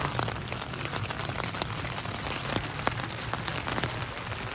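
Steady rain pours down at an outdoor festival in England, a dense hiss with scattered drops pattering nearby on a tent, continuous and fairly loud throughout.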